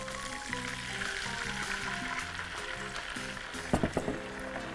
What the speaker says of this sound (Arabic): بصوا بقى انا هحط المكرونه كده، وبعدين هضيف المرق